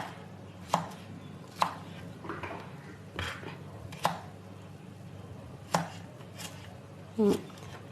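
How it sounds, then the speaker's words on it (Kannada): Knife chopping green tomatoes into small pieces on a board, a series of sharp, close knocks spaced irregularly about a second apart with faint clatter between. "ಈ ಥರ ಚಿಕ್ಕದಾಗಿ ಕಟ್ ಮಾಡ್ಕೋಬೇಕು ನೋಡಿರಿ."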